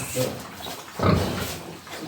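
A piglet grunts close by, two short snorting grunts about a second apart.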